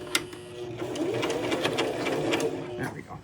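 A sewing machine stitches yarn onto a Halloween wig, running as a steady motor whir with a rapid rhythmic needle chatter for a few seconds. A voice may be faintly present.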